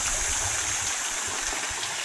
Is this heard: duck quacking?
no